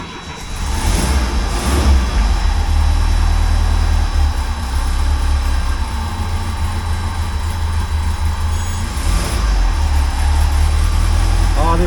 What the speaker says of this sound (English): that makes you happy when the motor runs